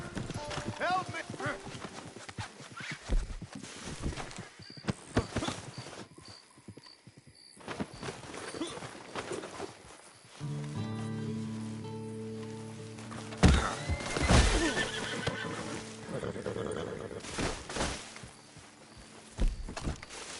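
A horse in Red Dead online neighs and its hooves clop and thud amid busy game sounds, with people talking over much of it.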